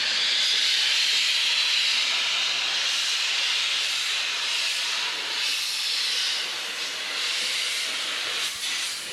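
Compressed air hose blowing debris out of the radiator of a 1999 Chevrolet Corvette, a loud continuous hissing blast held steadily for several seconds, close up with no voices.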